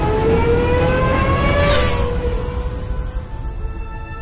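Gordon Murray T.50S Niki Lauda V12 winding up to 12,100 rpm, a loud, piercing shriek with rising harmonic whine that sweeps past close by, then fades into a lower, receding drone.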